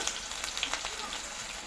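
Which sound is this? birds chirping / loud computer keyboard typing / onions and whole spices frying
onions and whole spices frying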